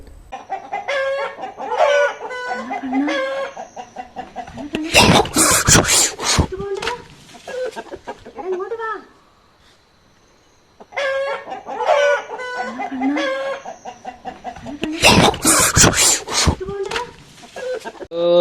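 Chickens cluck and squawk in agitated bursts at a leopard, close by, with loud flapping commotion and a short quiet gap midway.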